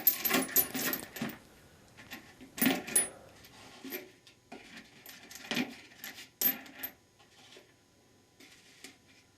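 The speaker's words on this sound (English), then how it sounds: "Place the bolts into a box." Metal bolts from a disassembled Ford E4OD/4R100 transmission clink and rattle as they are dropped into a box, in scattered close metallic clatters of varying loudness, fairly quiet overall with no talking.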